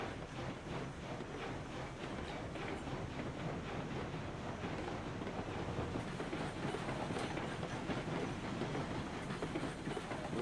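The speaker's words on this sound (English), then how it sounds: "We're gonna go meet up with the other train and double head it." A train rolling on rails in the video game Railroads Online, with a steady, loud, continuous rumble and a rhythmic clickety-clack of wheels, no talking.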